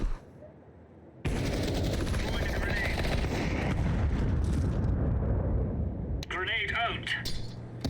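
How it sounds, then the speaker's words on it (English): Flashbang grenade going off in Counter-Strike 2: after a brief quiet moment a sudden loud burst erupts into sustained roaring noise, with a high ringing tone and clattering effects near the end. "Deploying flashbang."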